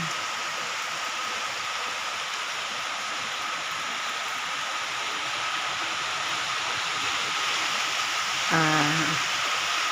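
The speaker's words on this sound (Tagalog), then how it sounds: "Ang lakas ng ulan." Heavy rain pours down in a constant, dense hiss that stays loud and even throughout, with a brief tonal sound near the end.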